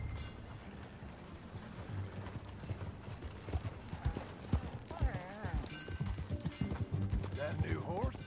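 A horse rides at a steady pace in the Red Dead Redemption 2 video game, with rhythmic hoofbeats, creaking tack and game ambience, and characters talking over the ride.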